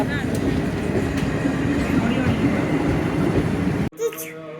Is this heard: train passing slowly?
yes